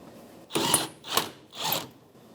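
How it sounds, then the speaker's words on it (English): An impact gun with an 18mm socket drives a rear shock absorber bolt on a 2009-2014 Nissan Maxima, firing three short, close rattling bursts about half a second apart. "Put the new bolt in. Take my 18mm socket and gun."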